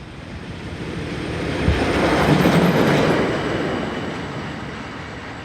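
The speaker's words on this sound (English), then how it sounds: "all freight services are in the hands of these RE66 locos" Swiss Re 6/6 electric locomotive hauling a freight train, a steady rumbling pass of rolling wagons with wheel rattle swelling to a peak midway and easing off, no voices.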